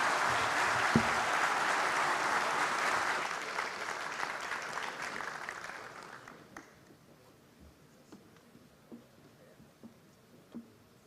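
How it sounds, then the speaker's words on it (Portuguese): Audience applause closing a maritime symposium in a hall, broad steady clapping for about six seconds before thinning into a few scattered claps over quiet room tone. "pedindo uma salva de palmas a todos"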